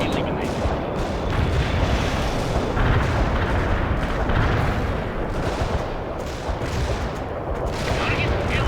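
Mortar fire in the video game World in Conflict, a steady rumbling barrage of heavy booms and explosions that stays loud and continuous across the whole stretch.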